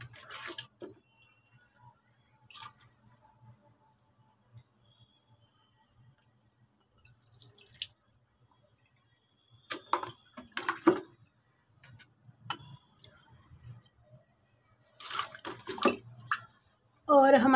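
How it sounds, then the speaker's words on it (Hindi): Water is poured into a plant pot filled with stones in a few short, quiet splashing bursts, separated by near silence over a faint steady low hum. "और अब इसमें पानी डाल देंगे।"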